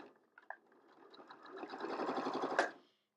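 Sewing machine stitching pieces of a plus sign quilt block, a steady rapid whirr that builds over a couple of seconds after a few short clicks, then stops abruptly.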